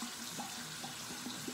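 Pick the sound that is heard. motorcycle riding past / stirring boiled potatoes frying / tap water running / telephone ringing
tap water running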